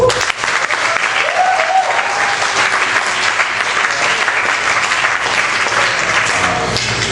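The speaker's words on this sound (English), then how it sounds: "So I just want to give them a round of applause." A crowd at a winter youth retreat camp applauds loudly and steadily throughout, a dense continuous wash of clapping with no gaps and a faint voice underneath.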